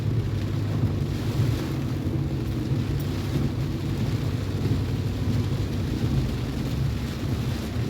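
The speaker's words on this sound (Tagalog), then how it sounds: "Ayan, may hangin na." Steady, heavy wind roars during Typhoon Odette in Lapu-Lapu City. The rumble is continuous and loud, with low gusty buffeting against the microphone and no voices.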